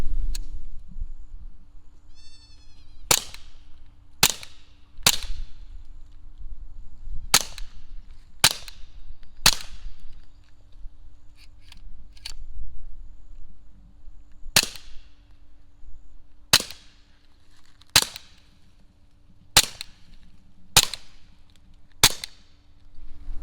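Suppressed .22 shots from a Taurus XT22 competition pistol, about a dozen sharp muffled cracks in uneven groups over a quiet outdoor background, with a brief cat-like squeak early on.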